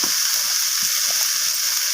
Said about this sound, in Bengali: এখানে সবজিগুলো মোটামুটি ভাজা হয়ে এসেছে